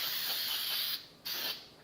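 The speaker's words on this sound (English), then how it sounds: "I'm going to grease it first with some non-stick baking spray." A continuous hiss of non-stick baking spray sprayed into a pan, briefly stopping then resuming for a second short burst.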